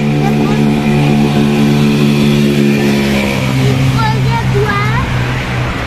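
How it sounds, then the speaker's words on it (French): A tractor engine digs in water by a shore, its steady mid-pitched drone running loud and constant throughout, with people talking nearby over the engine. "Ah, le tracteur qui est dans l'eau?"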